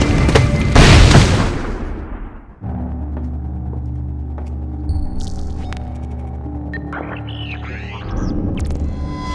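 A loud grenade blast in the stealth-action game Splinter Cell: Blacklist, a heavy boom in the first couple of seconds that decays into a low rumble and game ambience, with faint electronic tones later.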